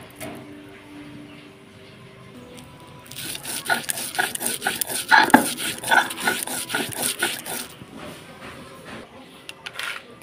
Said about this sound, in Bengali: আমি 1 চামচের মতো সর্ষে নিয়েছি, আর একটা লঙ্কা একটুখানি লবণ দিয়ে এটা পেস্ট করে নেব